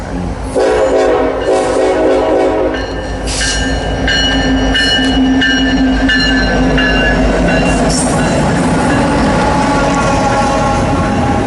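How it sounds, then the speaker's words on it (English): An eastbound train on the Harrisburg line at Wyomissing passes straight through on Main 1, loud and close. Its horn blows in the first seconds, then a steady heavy roar and rumble of wheels and cars goes on throughout. "This is an eastbound on Main 1. This one's going straight through."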